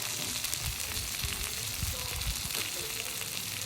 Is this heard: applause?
no